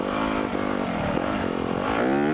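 A KTM 350 motorcycle engine revs up loud and close, its pitch climbing and dipping through several throttle blips as the rider prepares for a wheelie.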